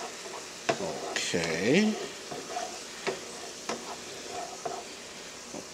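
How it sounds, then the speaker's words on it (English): A pan deglazed with apple cider vinegar while making Spanish-style baked beans and franks gives a quiet, steady sizzle, broken by a few stirring scrapes and knocks, with a brief spoken word. "apple cider vinegar just to deglaze the pan a little bit"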